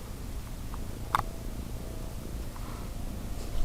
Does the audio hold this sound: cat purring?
yes